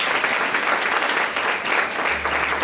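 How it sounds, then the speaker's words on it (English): Steady, full applause from an audience at a community development gala in Albany, a dense continuous crowd clapping that holds evenly from start to finish with no voices standing out. "Give them a round of applause."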